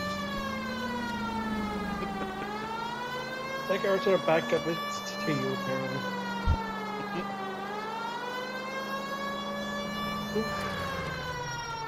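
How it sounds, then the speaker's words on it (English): A steady wailing police car siren in the video game L.A. Noire, rising and falling in pitch throughout, with people talking over it and a brief thump midway. "do you have like your sirens on or no? Yeah, they're on."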